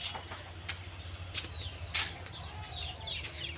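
Chickens cluck softly, with a few brief sharper squawks over a steady low rural background.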